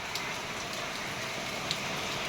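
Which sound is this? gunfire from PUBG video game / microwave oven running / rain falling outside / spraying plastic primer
rain falling outside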